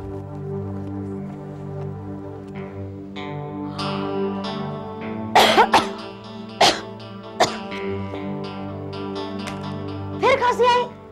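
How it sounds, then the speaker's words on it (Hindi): Several sharp, harsh coughs burst out in a drama scene, coming in quick clusters midway through and again near the end over steady background music. "फिर खांसी आई।"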